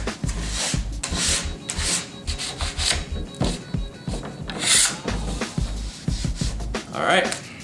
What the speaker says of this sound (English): pull the scraper towards you, grabbing all the wax